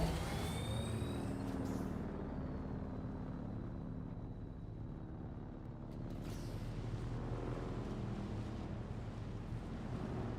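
Vehicle engine in Dune Awakening, a steady broadband rumble and whoosh holding under wind-like noise for the full stretch, fairly loud and close, with no talk.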